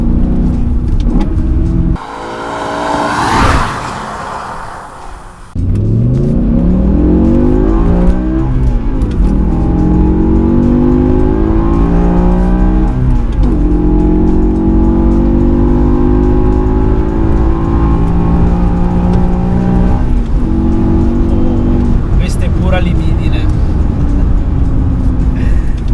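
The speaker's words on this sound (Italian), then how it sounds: "Terza piena più di 8000 giri." BMW M5 E60 super sedan revving hard in third gear past 8000 rpm, a loud close engine note with rising harmonics climbing through a long sustained pull, a brief lift and gearshift dip early on, then continued high-rpm howl.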